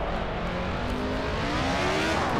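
Race car engine in the Assetto Corsa racing game, a steady droning whine with rising pitch as it accelerates, moderately loud and alone.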